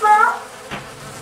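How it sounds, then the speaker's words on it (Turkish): A bee's brief buzzing hum from a television plays at close range, fading out within a second, followed by faint room noise. "Arılar uçuyor kızlar."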